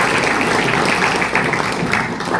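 A live audience at an Appalachian storytelling stage show claps steadily, a loud dense wash of applause sustained throughout with no clear gaps.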